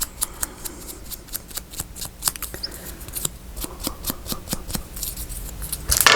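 Scissors snipping through paper along a line, a steady series of quiet close crisp cuts with a slightly louder rustle at the end.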